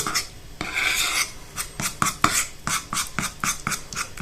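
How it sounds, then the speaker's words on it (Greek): A thick sourdough starter batter of flour and water, mixed to a heavy pancake-batter consistency, is stirred vigorously, giving steady rhythmic scraping strokes of the utensil against the bowl, close and fairly loud with no talking. "και θα ανακατέψω πάρα πολύ καλά. Στόχος είναι να δημιουργήσουμε έναν παχύρευστο χυλό."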